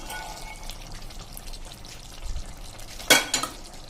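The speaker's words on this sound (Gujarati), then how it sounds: "તો આપણે આ કાજુ જે રોસ્ટ કર્યા છે ને ઘીમાં એ આમાં નાખી દેશું." Ghee-roasted cashews go into a spiny gourd curry cooking in a pan, which gives a soft, low sizzle and light stirring noise, then a sharp, brief clatter and splash near the end.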